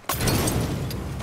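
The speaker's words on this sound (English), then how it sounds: "Throw a Molotov at it." A thrown Molotov cocktail bursts in Mafia III, a sudden loud whoosh of flame that starts abruptly and roars steadily for about a second.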